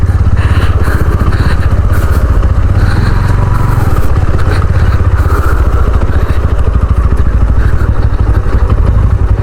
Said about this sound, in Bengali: এগুলোকে বলে অফ রোডিং রাইড করা। কোনো রোড নেই, যেখানে খুশি যেতে থাকো।